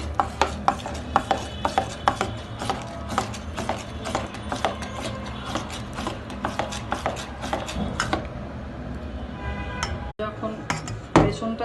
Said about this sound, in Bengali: ভালোভাবে এটাকে গোলাতে হবে, এভাবে এভাবে নাড়তে হবে যাতে দলা দলা না থাকে ভিতরে